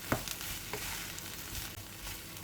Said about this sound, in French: Ajouter le cheddar râpé, bien sûr vous pouvez mettre des tranches de cheddar, il n'y a aucun souci. Et on mélange.